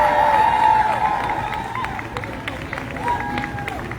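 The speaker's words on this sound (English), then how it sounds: "Give her a round of applause." Audience at a march claps and cheers for a speaker, a loud burst at the start that gradually thins into scattered clapping and chatter.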